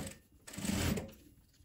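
A sewing machine runs a short stitching burst while topstitching a seam on lining fabric, a brief, fairly close whir that swells and fades within about a second.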